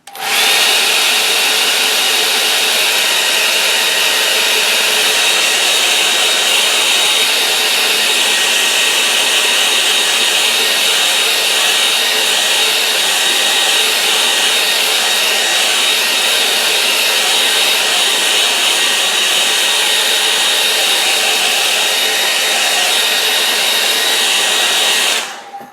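Hair dryer blowing on a wet watercolour painting, a loud steady close whoosh running unbroken for the whole stretch before cutting off.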